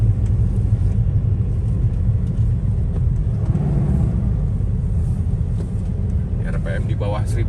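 Nissan Navara D40 pickup climbing a steep uphill bend in second gear at low revs, a loud steady engine rumble filling the cabin with no pauses.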